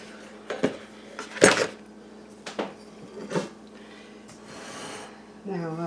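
A metal loaf pan and utensils being handled, with several sharp clanks and clatters at an uneven pace close by and a voice talking in between.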